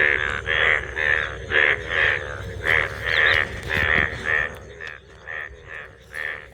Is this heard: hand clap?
no